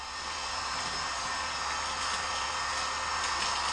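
A steady, broadband whoosh of a hair dryer or heat gun warming adhesive tailgate letters on a Toyota Tacoma, blowing continuously at even volume, close by, with no talking.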